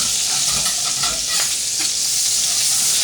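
Butter sizzling loudly in a pan over heat, a dense, close, continuous hiss and crackle with brief surges and no talking.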